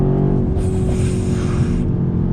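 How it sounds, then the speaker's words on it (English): A 2019 Mercedes-AMG C63 S goes to full throttle with a loud, steady engine roar close by that swells into a harder, rasping surge for over a second before easing off. "let me go ahead and real quick just drop on that throttle."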